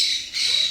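A toucan gives a short, harsh, nasal squawk that is close and fairly loud, with no talking over it.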